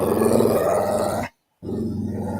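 A dog growls low and steady, a continuous rumbling snarl up close that breaks off briefly and then resumes.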